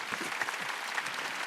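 A church congregation claps hands together during a Wednesday worship service, a dense, steady round of applause filling the room for the whole moment with no pauses.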